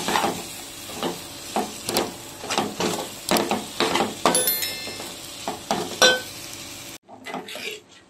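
Gongura paste fries in a pan of oil for a dried prawn curry, a busy sizzle under repeated scraping and clinks of a spoon stirring against the pot, close and rhythmic, ending in a short quieter tail.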